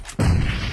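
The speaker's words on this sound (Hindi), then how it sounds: "क्या मारा ग्रेनेड लोंडे ने।" A grenade explodes in a multiplayer shooter video game, a sudden loud low boom that cuts in and rumbles on heavily after a brief quiet moment.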